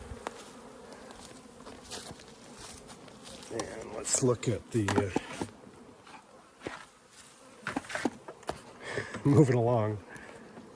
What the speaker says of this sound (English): And you can just see all those bees down there